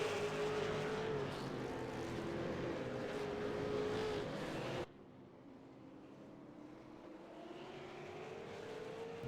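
V8 Supercar race cars roar around the Mid-Ohio track, a continuous loud engine drone that cuts abruptly to a more distant, quieter rising whine.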